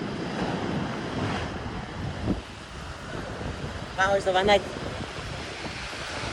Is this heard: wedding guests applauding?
no